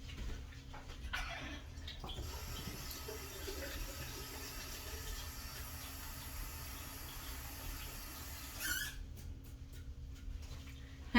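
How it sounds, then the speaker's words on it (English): A bathroom or kitchen sink tap runs steadily while hands are washed, a soft continuous rush of water lasting several seconds before cutting off. "I'm gonna wash my hands again."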